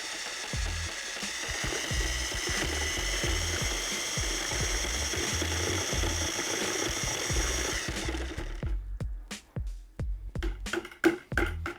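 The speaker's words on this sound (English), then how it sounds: "turn the mixer on slow." A paint mixer turns slowly in a five-gallon bucket of lime wash made from lime putty and water, a steady whirring, churning drone that stops, followed by a few scattered knocks and clatters.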